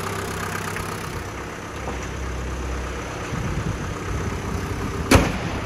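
A 1996 Daihatsu Taft Rocky 4x4 idles with a steady low engine rumble, close by, ending with a sharp click-like knock near the end.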